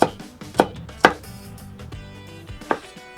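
A kitchen knife chopping food on a cutting board during a knife-skills lesson: several sharp, distinct knocks with irregular spacing, close and fairly loud, with quieter scraping between strikes and no talking.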